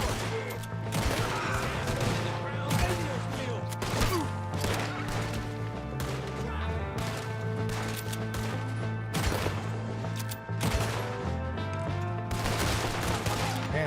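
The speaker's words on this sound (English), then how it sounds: "We got one shooting from the tower!" Gunfire from a tower in a Wild West shootout in Red Dead Redemption 2, with repeated sharp shots and volleys cracking over a steady musical drone, loud and close, with occasional voices.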